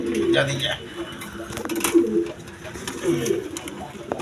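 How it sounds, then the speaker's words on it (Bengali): A pair of high-flying Giribaz pigeons, a male and a female, coo in low repeated bursts at close range, with a voice talking over them and background noise throughout. "এইখানে এক পেয়ার হাই ফিলাইং গিরবেস কবুতর আছে"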